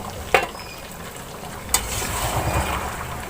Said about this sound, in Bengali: আমরা এবার মাংসটা একটু নেড়ে দেবো।